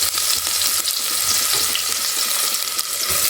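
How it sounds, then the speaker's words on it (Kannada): Tempering sizzles in hot oil for a mushroom biryani, a dense continuous crackle and hiss with small pops and a few stirring clatters, close and fairly loud with no talking. "ನಾ ಇವಾಗ ಇದು ಸಪ್ರೇಟ್ ತಕ್ಕೊಂಡು ಒಗ್ಗರಣೆ ಹಾಕ್ಕೋತೀನಿ ರೀ"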